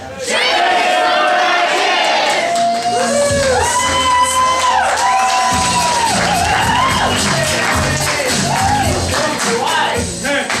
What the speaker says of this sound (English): on the count of 3, we need to yell